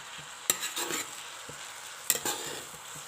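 Vegetable fried rice with soy sauce and vinegar being stirred in a frying pan, giving a few scraping strokes of a spatula over a soft, steady sizzle.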